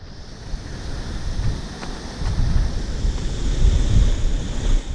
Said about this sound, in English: right here, where the water is coming down at that first layer where I was at